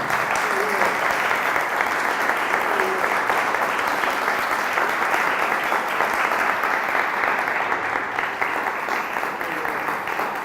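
A lecture audience applauds with sustained, even clapping that fills the room for about ten seconds at a strong, constant level, with no pause and no talk over it.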